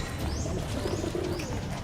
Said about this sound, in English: We have more pigeons.